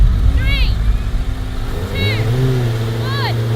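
A Honda NSX car and a 2018 Honda CBR1000RR motorcycle line up for a drag race, engines idling and revving up near the camera as a man counts down over them.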